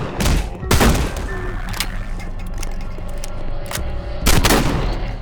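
A double-barrel shotgun in a first-person shooter game fires heavy booming blasts, one near the start and another near the end, with mechanical handling clicks and battle noise between them.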